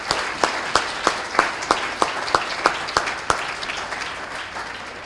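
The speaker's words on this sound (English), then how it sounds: "how about a round of applause for those 4 student speakers?" A small crowd at a school civic day event claps, with a few sharp, distinct hand claps standing out over steady applause that slowly thins.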